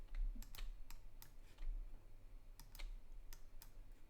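Computer keyboard and mouse in use during Photoshop clone-stamp work: a quiet run of sharp, irregular clicks and key taps over a faint hum.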